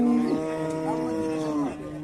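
A nearby dairy cow at a cattle market lets out a loud, sustained moo lasting about two seconds, with a slight rise and fall in pitch.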